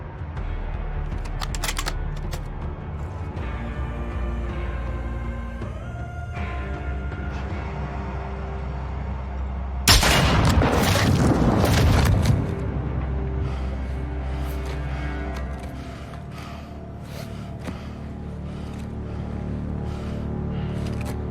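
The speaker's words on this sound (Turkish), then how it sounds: "Ghost uzaklardan bir keskin nişancı tüfeğiyle Hasan'ı" A sniper rifle fired in the video game Modern Warfare 2 lets out one loud, sharp blast partway through, ringing out briefly over steady game music and ambience.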